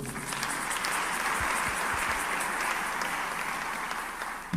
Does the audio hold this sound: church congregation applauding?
yes